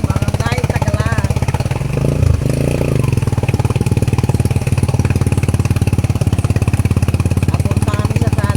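A small motorcycle engine of a tricycle chugs loudly and steadily close by as it drives through floodwater, with a brief voice rising over it partway through.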